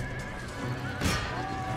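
A horse whinnies in the Empire: Total War strategy game, a short shrill neigh rising out of a steady battle din, about a second in, fairly close and louder than the background.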